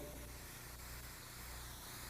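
An airbrush sprays paint in a soft, continuous hiss at close range, steady and quiet throughout with no talking over it.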